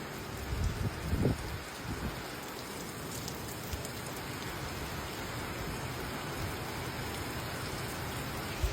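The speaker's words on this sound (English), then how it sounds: "It is pissing down," Heavy rain pours steadily during a thunderstorm in the Maldives, a dense even hiss close by with a few louder splashes early on and no voices.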